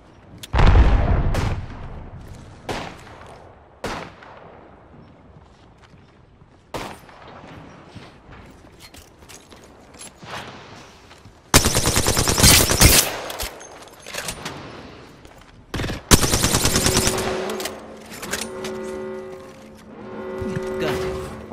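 Bursts of gunfire in the battle-royale shooter Apex Legends, sharp loud volleys in clusters separated by quieter stretches, with game effects and a voice heard in places.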